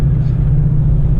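Deep, steady engine rumble from a 1985 Chevrolet Monte Carlo driving in third gear through turns, loud and continuous from inside the cabin with no talk.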